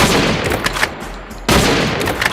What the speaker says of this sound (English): With headphones, you can hear the sound of walking, shooting,